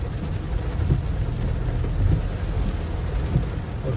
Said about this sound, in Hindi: फिर दोबारा बारिश माशाल्लाह स्टार्ट हो चुकी है